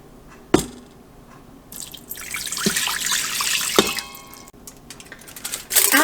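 Water poured into a pot over a metal trivet while setting up for seed starting, a wet splashing pour with a few drips and clinks, close and steady for several seconds, no talking.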